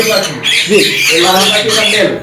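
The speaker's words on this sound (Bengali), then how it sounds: "লরি পাখি" A lory parrot at a busy bird market gives harsh, loud squawks up close, mixed in with nearby people talking.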